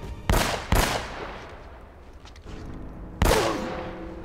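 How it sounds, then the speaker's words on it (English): Gunfire in Uncharted: Drake's Fortune: three loud, close, booming shots, two in quick succession then a third after a pause, each with a reverberant tail, no talking. "Now it sounds like a gun."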